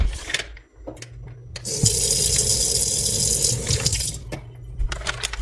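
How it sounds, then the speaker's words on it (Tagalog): Small amount of water running from a tap into sauce packets, a continuous gushing hiss lasting a couple of seconds, framed by quieter clicks and handling noises. "Lagyan ko ng kaunting tubig."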